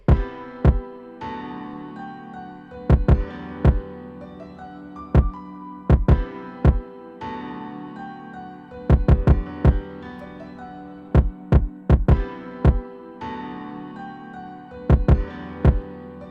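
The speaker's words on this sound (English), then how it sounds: "this kick has a little bit of edge to it." A punchy distorted kick drum thumps in a steady, driving pattern with gritty edge, over sustained tonal layers and with brief pauses between phrases, in a piano type beat.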